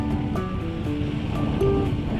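A small sailboat moving through the Finnish archipelago south of Turku, heard as continuous close water rushing and splashing along the hull with wind noise and faint creaks.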